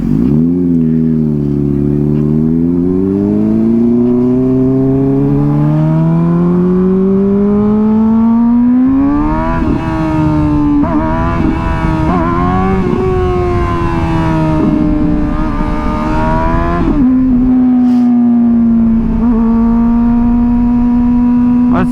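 Honda CBR 600RR sportbike engine revving on a snowy first ride of 2024, loud and close, with pitch climbing through several rises and drops before settling into a steady high idle.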